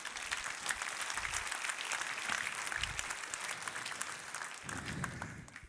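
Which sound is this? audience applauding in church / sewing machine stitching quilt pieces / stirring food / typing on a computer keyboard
audience applauding in church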